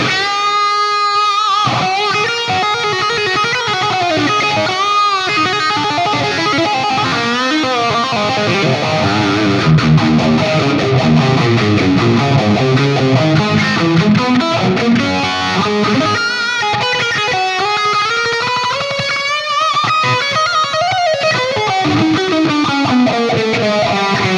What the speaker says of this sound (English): I've basically just put the phaser and the delay into there